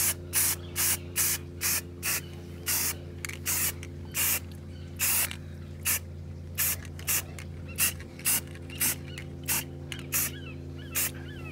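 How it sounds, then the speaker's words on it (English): A spray can lays paint onto the wheels of a 1990 Mazda Miata in a steady series of short, sharp hissing bursts at a regular pace, over a constant low background hum. "Shake the paint up nice and give it a nice light coat."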